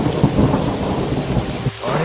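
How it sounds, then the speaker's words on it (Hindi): Heavy rain pours down with rolling thunder in an animated Hindi moral story: a loud, dense downpour roars continuously, rumbles of thunder swell within it, and no one speaks. "बारिश अभी थमने का नाम नहीं ले रही थी।"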